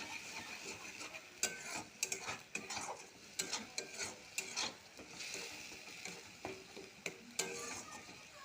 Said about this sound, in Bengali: এটা একটু ভালো করে কষিয়ে নেব